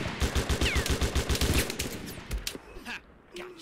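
Gunfire in the Mud and Blood war game: a rapid run of about a dozen evenly spaced loud shots like a machine-gun burst, then scattered crackling shots and distant pops fading out, with no talking.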